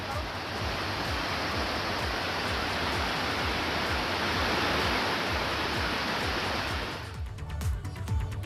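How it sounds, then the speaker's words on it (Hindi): Floodwater rushing over a road in the Langsi area of Uttarakhand, a loud, steady broadband roar of water that continues unbroken, then cuts away abruptly near the end. "सड़क के ऊपर से पानी बह रहा है"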